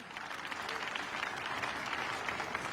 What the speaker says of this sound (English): You can see leaders of those local governments clapping